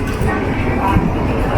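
A Shanghai metro train rumbles past nearby in a steady, loud wash of rail noise, with a person talking over it.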